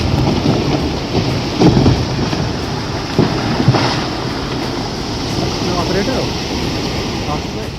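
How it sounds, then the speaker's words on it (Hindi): Heavy torrential rain pours steadily in Himachal Pradesh during three days of downpour, a dense, loud roar of water throughout with occasional low rumbles, and a voice speaking over it. "हिमाचल प्रदेश में 3 दिनों से जारी मूसलाधार बारिश ने जनजीवन को अस्त व्यस्त कर दिया है।"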